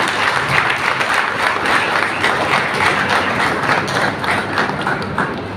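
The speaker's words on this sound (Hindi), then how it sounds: "जोरदार ताली।" Dense, sustained audience applause fills a memorial service hall, steady and loud throughout with many hands clapping at once and no break.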